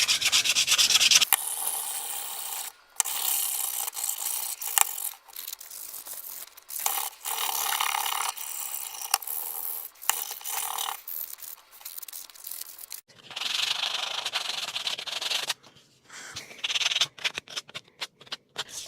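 Hand sanding of a wooden project with fine-grit sandpaper, moving from rough sanding toward smooth: steady close-up rubbing strokes in bursts separated by short pauses, loud and alone with no talk.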